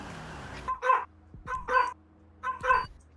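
A dog in GTA V gives three short whimpering barks spaced about a second apart, fairly close and clear against a quiet background.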